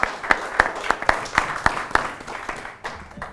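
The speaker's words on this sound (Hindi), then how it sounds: "एक बार जोरदार तालियां" Audience applause for a poet at a Hindi poetry gathering, a burst of sharp, irregular claps that rises and then thins out over a few seconds.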